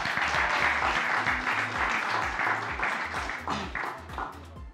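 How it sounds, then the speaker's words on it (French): A crowd applauds steadily, dense clapping close by that fades slightly toward the end. "Si vous voulez, on les applaudit."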